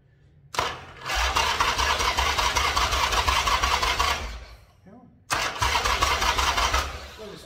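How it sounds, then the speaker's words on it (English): A custom-built Triumph motorcycle engine cranks on its starter motor with full choke, a loud steady churning run that cuts out briefly before the starter whirs again, close to the microphone with no talk. "Well, the starter worked."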